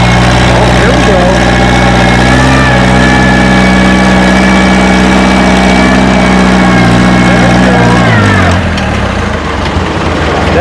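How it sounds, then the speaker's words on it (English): Pulling tractor at a spring tractor pull, its engine roaring loud and steady at high revs for most of the run, then dropping in pitch near the end, with an announcer speaking over it. "The tractor's wanting to drift down into that hole."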